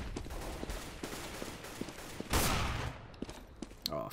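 Gunfire spraying in Counter-Strike: Global Offensive, a rapid run of rifle shots with a louder burst midway, fairly close and busy, followed by a few scattered shots.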